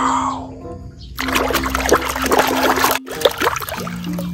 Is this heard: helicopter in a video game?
no